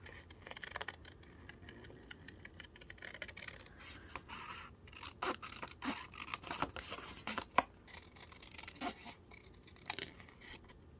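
Scissors snip through paper, cutting out a shape traced inside the lines of a file folder for a seaside memory journal, with a series of close, crisp cuts and soft paper rustles in a quiet room.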